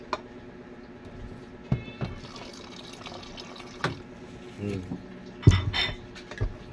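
Water is poured into a pot of sour soup broth, giving soft, intermittent splashes and pouring gurgles with a few light clinks. It is fairly faint and close, with no talking.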